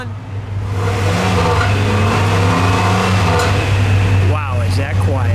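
Dual-exhaust engine of a 1999 Buick Riviera Silver Arrow Edition revving steadily and fairly quietly for several seconds as a low, even drone, with a voice speaking near the end.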